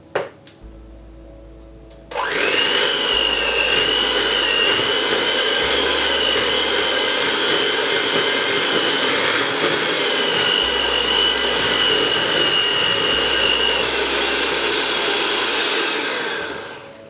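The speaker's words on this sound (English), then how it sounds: "we're ready just to start whisking that all together now" Electric whisk beating a thick vegan gingerbread cookie mixture, a loud steady high motor whine starting abruptly after a quiet moment and running continuously, close up.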